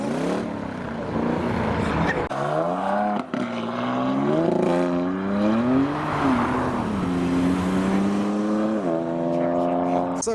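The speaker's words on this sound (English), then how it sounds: "Ah, the hot rod has returned. Let's rejoice in the sound of its V8." A hot rod's V8 pulls away from a car show, its engine note rising and falling through repeated revs and gear changes, loud and fairly close.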